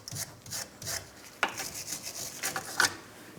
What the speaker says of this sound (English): So I'm starting down at my front sway bar. We'll use a wire brush.